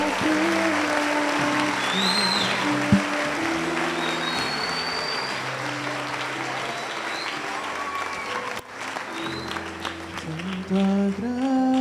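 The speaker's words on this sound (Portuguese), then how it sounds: "Uma salva de palmas ao Senhor." A church congregation at a preaching congress claps in sustained, dense applause lasting the whole stretch, with steady tonal notes from instruments or voices running underneath.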